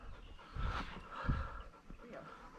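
A dog pants softly in quick, breathy bursts beside a river during a barramundi fishing outing. The sound is faint and sits under a voice as he talks.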